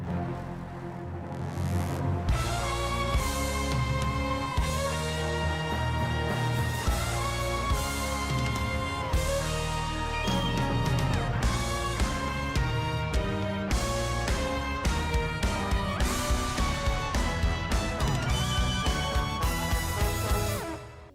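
A full orchestra plays a rich, sustained opening passage, loud and continuous throughout, with swelling strings and brass and accented hits toward the end.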